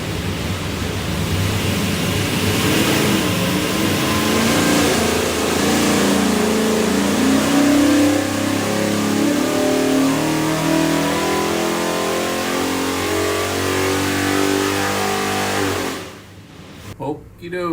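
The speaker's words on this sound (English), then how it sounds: "here's your big block Ford, 521 cubic inches" A 521 cubic inch big block Ford engine with carburetor and distributor runs on a dyno, roaring loud and continuous as its pitch climbs steadily for about sixteen seconds before dropping off abruptly.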